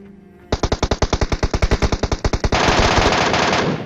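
Automatic gunfire from the video game PUBG rattles out in a loud, rapid string of about twenty evenly spaced shots, then merges into a sustained roaring burst of fire.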